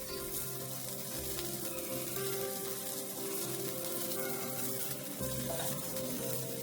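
Steady, continuous sizzling of fish frying in hot oil for a Konkani fish dish, loud and close throughout with no talking.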